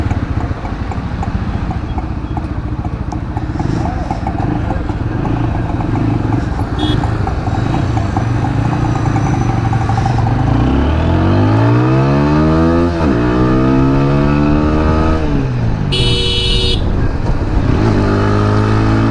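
A TVS Apache RTR 160 4V motorcycle revs and accelerates, its engine climbing in pitch through several gear changes amid road noise, loud and close throughout.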